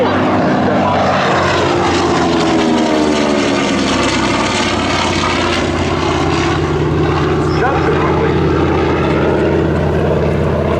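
A loud, droning TBM Avenger propeller bomber engine roars steadily throughout during an airshow flight demonstration, pulsing slightly, while someone narrates over it.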